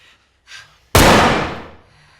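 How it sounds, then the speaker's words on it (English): A blank cartridge fired from a handgun in a dark comedy film scene: after brief quiet and a faint rustle, a single loud, sharp report bursts out close by and its noisy tail fades over about a second. "I just shot a blank in your fucking eyes."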